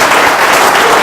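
A church congregation applauds during an anniversary service, a loud, dense, continuous wash of clapping throughout.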